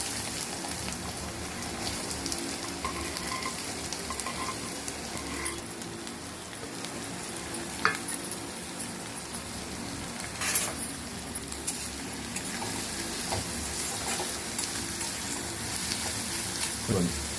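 Onions and green chillies fry in oil with a dense, rain-like crackling sizzle that runs steadily throughout. Occasional stirring scrapes and clinks sit on top of it.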